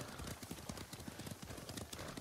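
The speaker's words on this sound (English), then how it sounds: "Leave the horses here." Horse hooves clip-clopping in the Ghost of Tsushima video game, a quick, continuous run of quiet, close hoof strikes in a steady rhythm with no talking over them.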